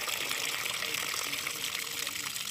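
Water is let out and gushes steadily in a continuous broadband rush outdoors, near and loud, over a spot where a frog and fish are being caught, with people talking over it.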